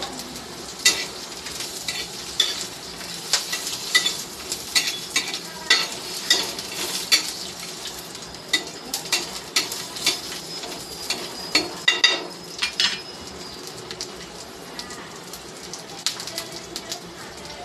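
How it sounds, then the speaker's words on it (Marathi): Spices roasting in oil in a pan, a steady hiss of frying with frequent scraping and clicking stirring strokes, close, while a person talks intermittently. "हे थोडंसं तेल टाकून घेऊयात म्हणजे व्यवस्थित भाजतील अजून."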